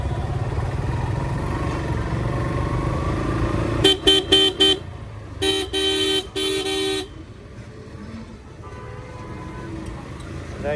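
Street traffic near a hospital, with several short horn toots in quick bursts, then two longer honks, over a steady rumble of passing cars and motorbikes, close and loud.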